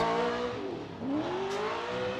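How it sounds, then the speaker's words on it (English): Formula Drift car at the 2019 Atlanta qualifying round revs hard, its exhaust note rising and falling in a continuous loud roar with a brief higher tire-squeal edge midway, close and alone without talk. "Look at that smoke signal and that exhaust note just hammering down, Ryan."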